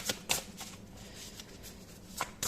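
Tarot cards being shuffled by hand, a few short crisp riffling bursts separated by quieter pauses, close and fairly soft.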